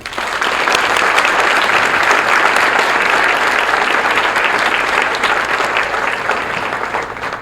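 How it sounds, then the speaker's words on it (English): A loud, full round of applause rises from the audience at a college honors recognition banquet, building quickly and holding strong before easing slightly near the end. "How about a final applause for them?"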